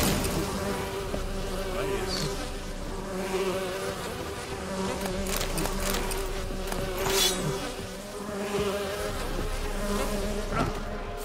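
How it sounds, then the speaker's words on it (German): Dense, steady insect buzzing from a swarm of flies in The Witcher 3, a continuous drone filling the whole stretch with small swells in loudness and no speech over it. "Wieder so ein Fliegenschwarm"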